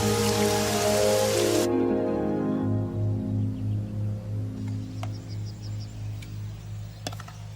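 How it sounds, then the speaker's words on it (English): Animated rain after a long drought in a Buddhist cartoon: a loud burst of hissing downpour lasts under two seconds, then cuts away to a sustained tonal drone with a soft, regular pulse. "It's been a long drought and now it's raining."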